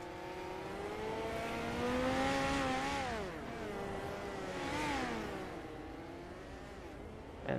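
A dirt midget race car engine revs hard on a dirt track, its pitch rising and falling steadily with throttle changes over several seconds, loud and continuous with no talking.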